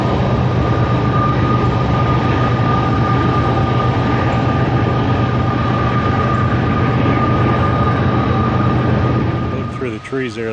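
A train rumbles steadily past at a distance across the river in New River Gorge, with a continuous roar and a faint high whine, fading slightly at the end as a voice starts.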